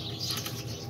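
Caged pigeons, white and wild birds, heard up close with soft wing flapping and faint cooing and chirps over a steady low hum, with no talking.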